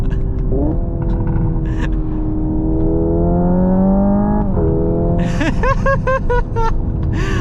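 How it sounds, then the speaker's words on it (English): Hyundai IONIQ 5 N electric car accelerating, its synthetic engine note rising in steady pitch sweeps with simulated gear changes, loud and close from inside the car. "I can down it some gears, but of course it's not really got any revs because it's an electric car"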